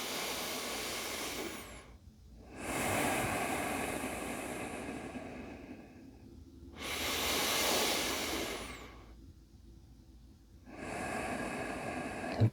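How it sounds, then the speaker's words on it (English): Slow, drawn-out exhalations during a calming breathing exercise, three long hissing out-breaths close to the microphone, separated by quiet pauses. "Nice and slowly, and just letting that breath out."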